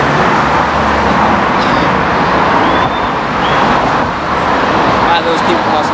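Road traffic with cars passing by, a steady loud roar of engines and tyres close to the microphone with no pauses, heard outdoors.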